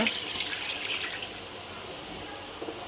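Water pours steadily into basmati rice for chicken biryani, a continuous close, moderately loud rush and splash that holds evenly throughout with no talking.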